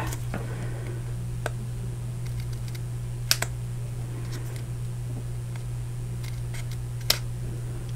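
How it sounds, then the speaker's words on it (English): Scissors trim the overhanging edge of designer series paper for a papercraft box, giving a few faint, sparse snips and clicks over a steady low room hum. "I'm just going to take my scissors and just trim it off really quick."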